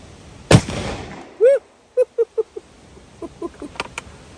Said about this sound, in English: going to shoot some black powder